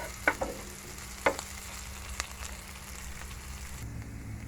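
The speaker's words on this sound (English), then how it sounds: "I'm just going to saute them for about a few seconds" Food sautés in a pan over a low flame with a quiet, steady frying hiss, a couple of sharp utensil clinks near the start and a faint tap later on.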